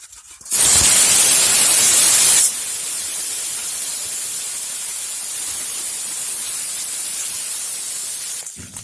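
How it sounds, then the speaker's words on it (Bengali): Koi fish, coated with salt and turmeric, hit hot oil in a wok with a loud bright hiss that settles into a steady, quieter sizzling spatter, running continuously. "কড়াইয়ে দিয়ে দিয়েছি তেল, তেল গরম হয়ে গেছে। মাছগুলো ভেজে নেব,"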